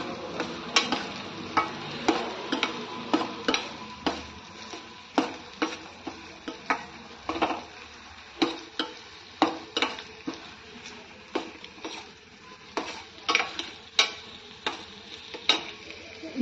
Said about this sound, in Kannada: ಈರುಳ್ಳಿ, ಜೀರಿಗೆ ಹಾಕಿದ್ದೀನಿ. ಸ್ವಲ್ಪ ಇದು ಬ್ರೌನ್ ಆಗೋವರೆಗೂ ಹುರ್ಕೊಳ್ಳೋಣ.